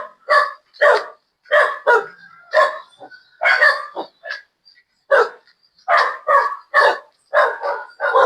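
A brown street dog barks in a steady series of sharp, close barks, about a dozen in quick succession with brief pauses, heard on a morning walk through a neighbourhood.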